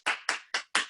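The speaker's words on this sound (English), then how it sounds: "Round of applause." Four sharp, evenly spaced hand claps close by, a brief round of applause from a yoga instructor at the end of a vinyasa sequence, with no talking.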